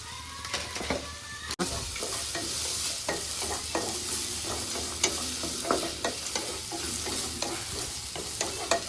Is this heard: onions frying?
yes